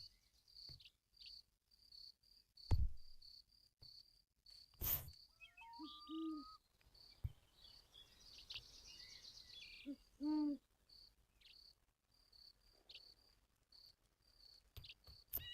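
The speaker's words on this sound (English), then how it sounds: "That's some loud chirping." Loud cricket-like insect chirping fills a quiet virtual outdoor scene in Second Life, a steady high trill running throughout with scattered clicks, a few low hoot-like calls and occasional sharp knocks, no talk.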